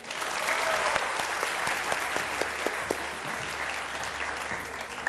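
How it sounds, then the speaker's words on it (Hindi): A studio audience at a televised Ramadan iftar show claps and applauds steadily and loudly, with dense, sustained clapping and no talking over it. "नाजिया मलिक के लिए बहुत सारी तालियां जी।"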